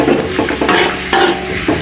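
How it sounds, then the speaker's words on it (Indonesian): Onions fry in oil in a wok with a loud continuous sizzle as a utensil scrapes and stirs in steady repeated strokes, heard close with no talking. "Kita kacau-kacau ya bun, kita kacau"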